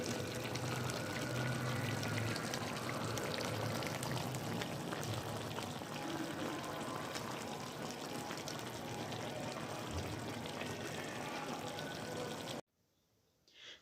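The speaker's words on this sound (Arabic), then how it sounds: "هي كده كانت بتبقلل كده وبتعمل" Lamb and potato tagine bubbling as it cooks in a clay pot, a dense continuous simmering hiss with soft popping, held steady and close before cutting off abruptly near the end.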